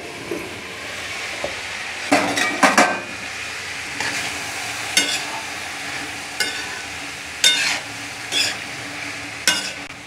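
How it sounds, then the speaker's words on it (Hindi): Mixed vegetable sabzi being stirred in a pan, with scattered scraping and clattering strokes over a steady low cooking hiss, spaced irregularly across the stretch with no one speaking. "अब इसे हम मिलाकर दो तीन मिनट के लिए ढक के पका लेंगे।"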